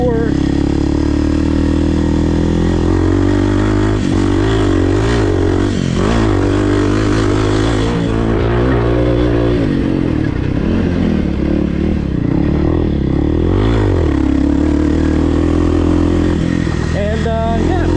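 A 2024 Kawasaki KLX300R dirt bike with a 1-inch lowering kit, ignition box and FMF Q4 exhaust is ridden up close, its engine loud and rising and falling through revs and gear changes, with a rider talking over it.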